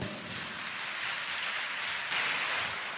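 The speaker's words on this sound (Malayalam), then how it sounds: "കൈയടിച്ച് ഈശോയ്ക്ക് നന്ദി പറഞ്ഞു" A church congregation claps hands in praise, producing dense, continuous applause that swells slightly near the end, with no speech over it.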